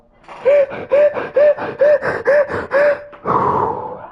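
Heavy anxious breathing comes close and loud, with six rhythmic gasping inhales and exhales at a steady pace, followed by a longer rushing exhale.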